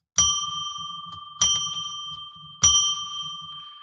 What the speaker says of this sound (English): I am now going to ring our bell, traditional bell, 3 times to declare sacred space